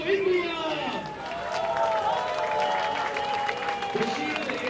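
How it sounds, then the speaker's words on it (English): A crowd applauds and cheers India's Shield win at the HSBC Asian Rugby Sevens Series in Bombay, with steady clapping through the clip under a loud, echoing announcer's voice on the stadium speakers. "Please give a big round of applause to India!"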